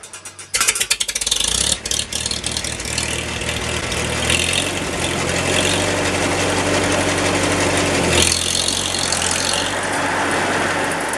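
A Farmall H tractor engine cranks with uneven bursts, catches and settles into a loud, steady running rumble with mechanical rattling, close by and with no talking.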